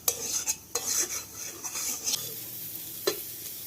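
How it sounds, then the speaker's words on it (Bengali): Soybean chunks fry in a pan with turmeric and salt, sizzling under repeated sharp clanks and scrapes of a metal spatula stirring against the pan, close and without voices. "সামান্য হলুদ আর লবণ দিয়ে সয়াবিনটা ভেজে নেব।"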